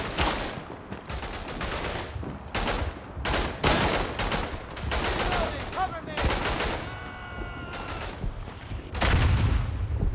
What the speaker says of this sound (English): We're gonna get mortared here as well.